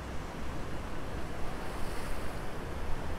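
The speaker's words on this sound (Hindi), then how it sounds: "देखिए कितनी ज़बरदस्त लहरें आ रही है" Heavy monsoon surf crashes continuously on a beach in Goa, a dense, roaring wash of breaking waves mixed with wind buffeting the microphone, loud and steady throughout with no voices.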